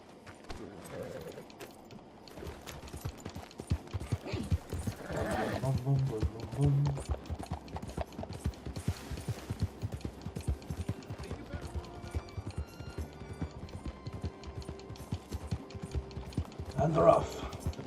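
In the Red Dead Redemption video game, a horse clip-clops in a steady running rhythm and neighs now and then, with game effects alongside and a voice talking at times.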